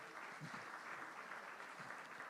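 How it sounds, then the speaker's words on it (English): An audience at a book launch event claps together in a continuous, moderately loud patter of many hands, a steady wash of applause lasting the whole moment with no clear speech. "the clap is too scanty for Yahweh"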